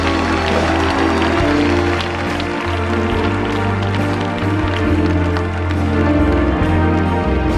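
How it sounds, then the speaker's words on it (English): A church healing-service crowd in Jakarta claps steadily throughout, a dense wash of hand claps over sustained music and low background tones, with no clear pauses. "Come on, give a big clap."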